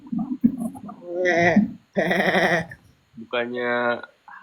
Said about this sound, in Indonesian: Itu kambing.